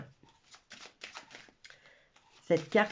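Tarot cards are handled and laid down on a table, soft papery slides and taps that end in a louder shuffling burst, heard close under a woman's speech.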